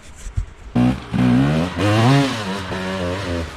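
Beta 300 Race Edition two-stroke dirt bike engine being gassed, loud close revving bursts rising and falling in pitch with a buzzy, raspy tone, starting abruptly after a brief quieter lead-in, with no talk.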